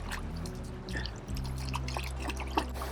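Shoes and legs being rinsed in green, boggy water on a run, quiet splashing and trickling close by with a few small drips.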